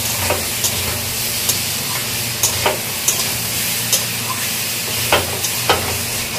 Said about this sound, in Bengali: পটল রান্না করে নিচ্ছি